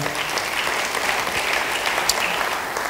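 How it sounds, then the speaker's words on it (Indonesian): A church congregation claps steadily during a worship service, the applause dense and continuous at moderate loudness, with no clear speech over it. "Beri tepuk tangan bagi dia."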